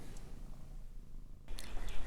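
A pet cat purrs softly and close, a low rumbling flutter that carries through quietly and swells a little louder toward the end with a few faint rustles.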